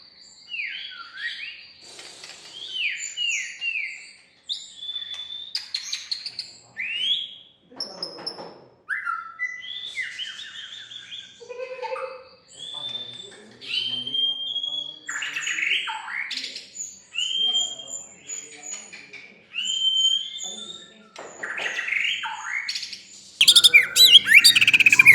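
Magpie-robins sing close by in a training setting, with a long run of varied bright whistles, trills and chirps in quick bursts and short pauses, loud against a quiet background.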